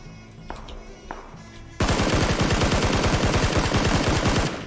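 Automatic gunfire in the PUBG battle royale game, erupting in a loud, fast, sustained burst of rapid rounds that runs without pause for about three seconds after a quieter stretch of ambient game sound.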